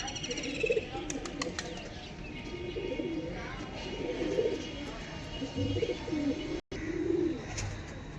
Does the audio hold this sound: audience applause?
no